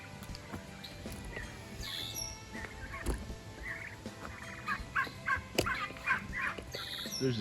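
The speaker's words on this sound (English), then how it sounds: "There's the baby turkeys" Baby turkeys on a farm gobbling and peeping outdoors, a busy run of short repeated calls that grows denser and louder toward the end, with scattered chirps from other birds.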